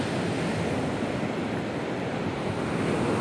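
Sea waves breaking on a Kerala seashore near a stone groyne, a constant loud roar of surf mixed with wind buffeting the microphone, no voices.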